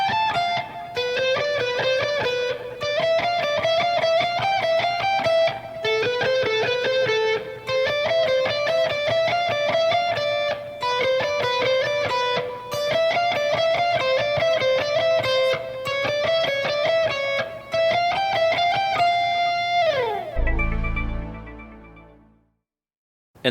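Harmonized neoclassical shred guitar lead played fast and distorted, with rapid note runs in two voices stepping through a sequence, loud and continuous for about twenty seconds before ending on a sustained chord that rings out and fades.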